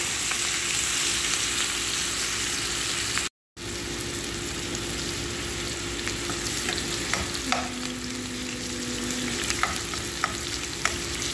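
Onion and ginger, with no garlic, stir and sizzle in a frying pan as a simple vegetable dish starts, a steady close frying hiss with occasional scrapes and clicks of stirring.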